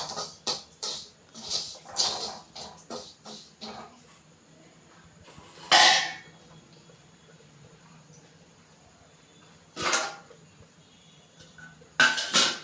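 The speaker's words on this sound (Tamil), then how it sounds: "அந்த சூடான எண்ணெயில் ரவையை கொட்டி நல்லா வறுத்துக்கலாம்." A utensil stirs semolina (rava) roasting in hot oil in a pan, giving close, irregular scrapes and metallic clinks with quiet gaps between them.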